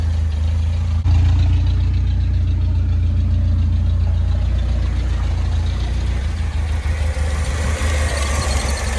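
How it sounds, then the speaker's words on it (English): A 1979 4x4 Ford Courier pickup engine idles close by with a steady, loud low rumble that runs unbroken the whole time. "it's running pretty good now, idling on its own."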